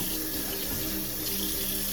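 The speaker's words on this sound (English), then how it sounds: "You just want to rinse it out a little bit before you put it in the blender." Running tap water splashing into a sink as wildcrafted Tanzanian sea moss is rinsed before blending, a steady close-up hiss and patter with no voices.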